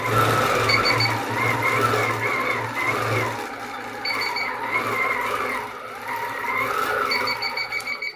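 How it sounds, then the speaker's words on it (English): Short high beeps sound in quick clusters over the steady whirring hum of a running sewing machine during quilting, close by, warning as the fabric nears the edge. "as I come to that edge, it'll beep at me"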